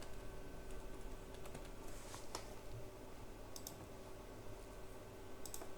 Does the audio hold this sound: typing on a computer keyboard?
yes